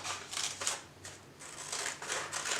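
Scissors cut through paper for a pop-up book, giving several quick crisp snipping bursts close up and fairly quiet, with no talking.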